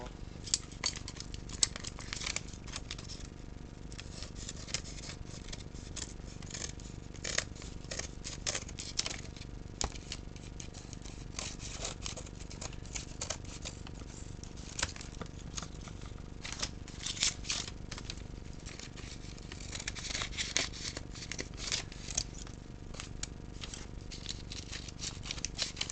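Scissors snip through material for a homemade play button craft in a quiet room, giving a long run of small, irregular clicking cuts, close and faint.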